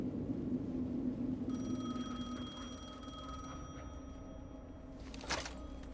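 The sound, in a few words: telephone ringing in video game Alan Wake II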